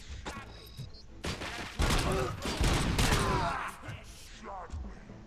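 Gunfire from the Robocop: Rogue City video game, loud bursts of rapid shots and thuds crowding the middle seconds, with voices and other game sounds mixed in and fading toward the end.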